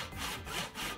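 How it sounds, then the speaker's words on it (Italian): A sharp saw cuts back and forth through wood, giving three rasping strokes in quick rhythm, close and clear with no talk. "C'è anche una sega affilata!"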